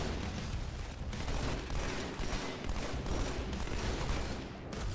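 Fully automatic weapon fire in Halo 2, a continuous rattling stream of rapid shots with dense booming bursts that run loud and unbroken from start to finish.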